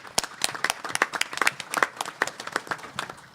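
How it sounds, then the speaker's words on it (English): A small audience clapping for a community panel, with distinct individual claps coming in an uneven, fairly sparse rhythm, close and clear with no voices over it. "I would like to give you a round of applause for all their commitment and all the work that you do"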